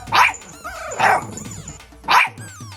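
A dog barks three times in sharp, loud bursts spaced about a second apart, close by, with whining yelps in between during a tense comedy scene.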